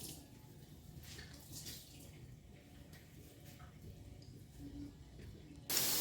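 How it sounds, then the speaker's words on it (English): Potatoes are rinsed under a running kitchen tap, giving a steady, soft rush of water that keeps going the whole time. A brief louder splash comes at the very end. "I rinse my potatoes a couple times before I put them on to boil"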